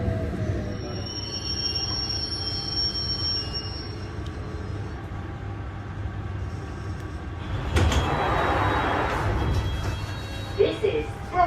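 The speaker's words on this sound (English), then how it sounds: "This is the Hammersmith and City Line train to Barking." A London Underground Hammersmith and City Line train runs with a steady rumble and high wheel squeal heard from inside the carriage, while a recorded voice announces the station and line.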